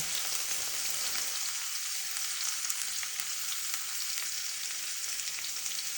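A small amount of garlic fries in a pan with a soft, steady hiss that continues evenly throughout, quiet and unbroken, with no voices.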